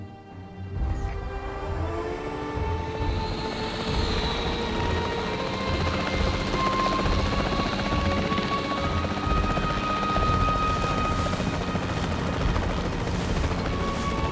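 The capture team helicopter in Jurassic World Evolution 3 roars in and holds a steady, loud rotor drone for over ten seconds, with faint tonal game effects layered beneath.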